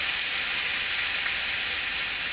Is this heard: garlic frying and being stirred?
yes